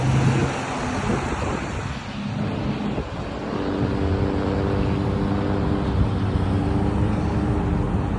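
Road traffic rolling past at a plus-shaped street intersection, a steady loud engine and tyre rumble as cars pass right beside someone crossing on foot, continuous with no talking.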